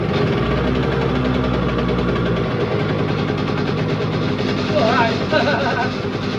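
Yamaha RD80 classic two-stroke motorcycle engine turning over and settling into a steady idle, with a low rumble throughout and people talking nearby.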